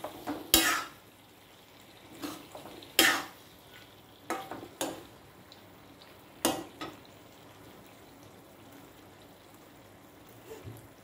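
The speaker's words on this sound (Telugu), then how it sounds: "కొంచెం బాగా ఆయిల్లో ఇలాగ కొంచెం ఫ్రై అవ్వనివ్వాలి" Brinjal curry frying in oil in a pan, with a quiet low sizzle broken by several sharp spatula clanks and scrapes against the pan at irregular intervals.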